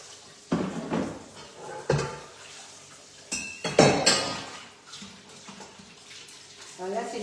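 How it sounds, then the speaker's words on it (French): Greasy chocolate mould rinsed under hot running water in a kitchen, with clanks of the mould against a sink and scattered knocks amid a soft water hiss, a voice talking in the background. "On le rince juste à l'eau chaude"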